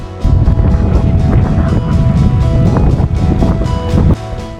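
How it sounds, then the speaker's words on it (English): Loud wind on a mountain summit buffets the microphone in rough, low roaring gusts, steady and close with no voices, cutting down abruptly near the end. "It's quite windy here though."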